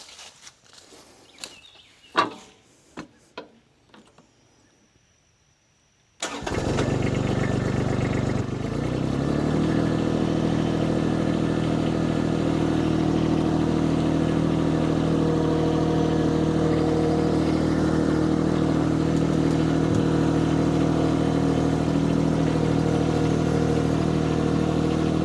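A mini skid steer engine cranks and starts after a few quiet knocks and footsteps, then settles into a loud, steady close-up idle that runs on for about twenty seconds.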